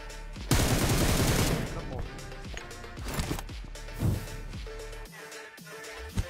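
Gunfire in PUBG Mobile on the desert map: a loud, dense burst of automatic fire lasting about a second, then scattered sharp shots and impacts, with faint talk underneath.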